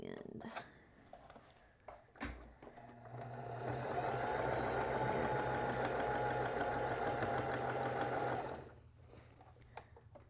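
A sewing machine stitching a quilt block runs in one steady, close, buzzing burst of several seconds, with a few handling bumps and brief sounds before and after the run.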